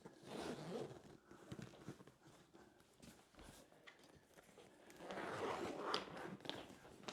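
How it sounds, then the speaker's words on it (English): An expanded suitcase is zipped closed, its zipper pulled along in several rasping strokes of varying speed, quiet and close with no talking. "Okay, so I've expanded it now, which will make it easier to zip it closed."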